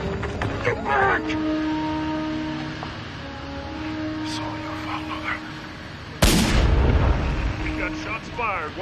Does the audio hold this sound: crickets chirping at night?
no